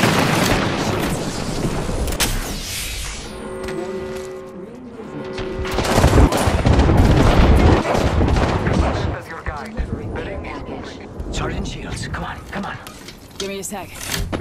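Heavy gunfire in Apex Legends: bursts of close shots and booming impacts rise and fall across a firefight, with a voice talking over parts of it.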